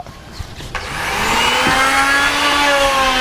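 An electric wood planer spins up from quiet to a steady, loud, high whine that holds without a break, with a couple of faint knocks before it starts.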